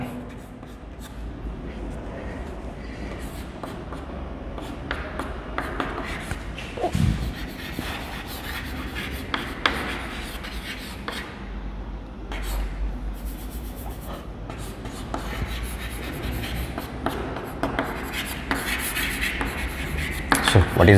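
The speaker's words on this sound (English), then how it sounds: "I write one more point." Chalk or marker scratches and taps across a board during a physics lecture, steady close rubbing strokes with a few sharper knocks, running for about twenty seconds without speech.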